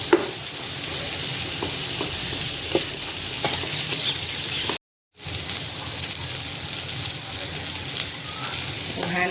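Whole cinnamon, cardamom, cloves and pepper sauté steadily in hot oil for a beef stew, a continuous close sizzle with occasional stirring scrapes and a brief dropout near the middle.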